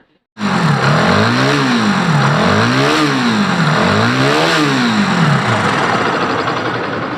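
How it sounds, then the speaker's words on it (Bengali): A motorcycle engine starts and keeps running loudly, revving in repeated rising and falling swells before settling into a steady idle. "আমি বাইকটা চালু করলাম এবং বাইকের ইঞ্জিনের সাউন্ডের কি অবস্থা আপনারা শুনেন"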